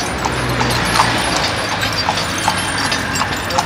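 Horse hooves clip-clopping on a road in Egypt between Luxor and Aswan: a steady, fairly close rhythm of hoof strikes under a constant background rumble.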